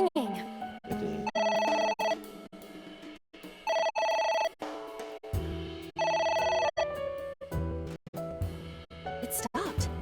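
A telephone rings repeatedly in the AI Somnium video game, its bright electronic bursts separated by short gaps, while voices talk over and between the rings.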